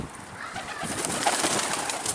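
Pigeons flutter and coo faintly around scattered feed outdoors, a soft wash of wings and birdsong over steady background noise, with no talk.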